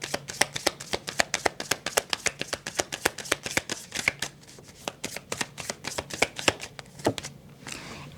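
Tarot cards being shuffled by hand, a rapid run of crisp, close flicking snaps in a steady rhythm that lasts the whole stretch, with no voices.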